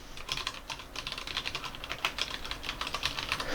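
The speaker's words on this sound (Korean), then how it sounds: "실제로 한번 타이핑을 한번 해볼게요" Quick, soft clacking of brown-switch mechanical keyboard keys typed in a steady run, close up, with no talking.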